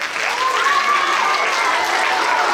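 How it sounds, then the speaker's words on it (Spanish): An audience at a school talent show fills the room with loud, continuous applause, a dense wash of clapping with excited voices mixed in. "Un aplauso."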